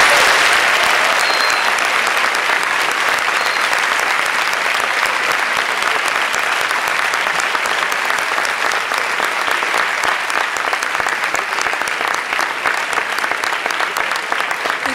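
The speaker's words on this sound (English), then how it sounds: "Ladies and gentlemen, another round of applause for our 10th graders." A school board meeting audience applauds 10th graders in a long, steady round of dense clapping that holds at an even level for the full stretch, with no break or voice on top.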